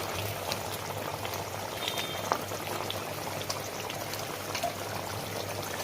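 A hilsa fish and eggplant curry bubbles at a steady boil in a pot, a continuous close-up simmering hiss with a faint clink near the middle and no talking.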